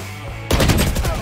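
Sudden rapid gunfire from the game VALORANT erupts after a brief quiet lead-in, a loud, continuous automatic burst close to the listener.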